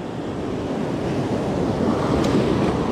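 Ocean surf washes steadily onto a beach during surf fishing on calm, clear water, a continuous broadband rush with some wind buffeting on the microphone and no voices.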